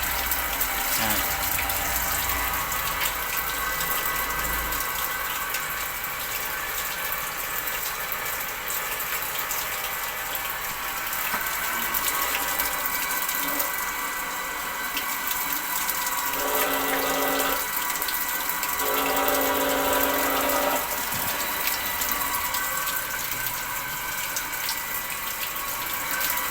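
A Mitsushi 0.5hp electric water pump draws water from a well line, giving a steady loud rush and gush of flowing water that runs throughout, with a pump hum beneath and a few brief tonal shifts.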